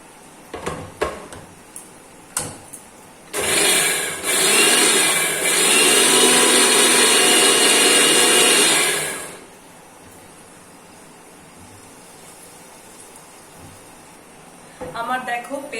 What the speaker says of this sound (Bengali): তো এইটা এবার পেস্টটা সুন্দর করে বেটে নেবো আমি।